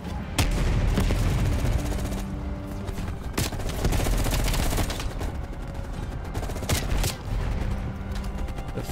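Dense, sustained gunfire from the video game Call of Duty Black Ops Cold War, with rapid automatic bursts and sharp louder shots layered over a constant loud barrage throughout.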